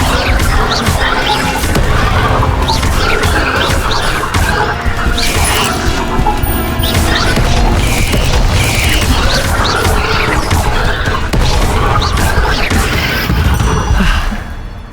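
An Incendio fire spell in the video game Hogwarts Legacy erupts in a dense, loud roar of booms, crashes and whooshing blasts that churns on for many seconds without pause.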